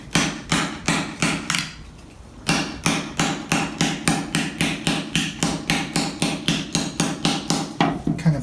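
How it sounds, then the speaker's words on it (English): A hammer strikes a steel sabaton armor tip resting on a wood stump in a fast, steady rhythm of bright metallic blows, close and loud, pausing briefly after the first few hits before resuming. "So I start out with just hammering it softly."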